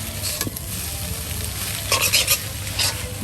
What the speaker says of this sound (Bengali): দেখুন কত সুন্দর করে কিন্তু শাক ডিমের সাথে উলট পালট করে নেওয়া হচ্ছে